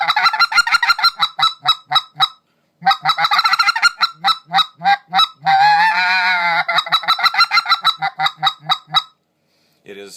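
Rapid clucking and a buzzing cluck on a soft reeded Basin Calls speck goose call, loud and close, with quick honking notes in rhythmic bursts, one sustained buzzy stretch in the middle and brief pauses between runs.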